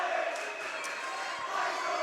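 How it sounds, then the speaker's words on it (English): Large high school basketball crowd in a packed gym chanting "Why so quiet" at the rival fans during Aliso Niguel versus Laguna Hills, a steady roar of many voices with cheering swells, close and continuous. "As you hear the "Why So Quiet" chant in the background"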